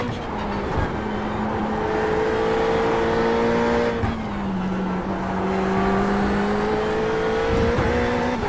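A Ferrari GT3 race car in the iRacing sim pulls hard out of a corner, its engine note climbing steadily through the gears with a brief dip at each shift. The engine stays loud and close throughout, with no talking.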